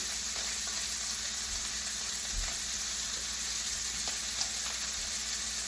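A steak sizzles steadily in a pan on medium heat, making a constant close hiss with faint pops and no talk.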